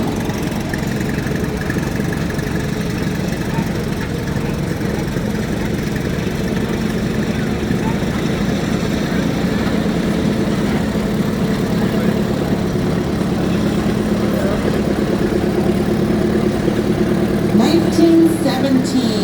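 A 1928 McCormick-Deering 10-20 tractor idles continuously in a parade with a low, rumbling chug, fairly close and unchanging throughout, with faint outdoor background noise.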